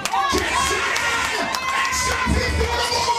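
A crowd at a 2007 dancehall sound event cheers and shouts, with whistle-like tones and scattered claps, loud and continuous with voices mixed throughout.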